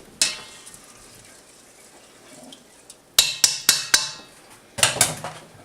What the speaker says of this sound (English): Let me stir that up a smidge.